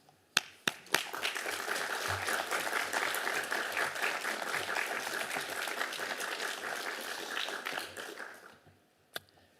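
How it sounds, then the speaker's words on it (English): Graduates at a university graduation ceremony applaud in sustained, dense clapping that fills the hall for several seconds before trailing off near the end, with a few sharp claps standing out at the start. "to actually applaud the friends and family of all of the people who've helped you"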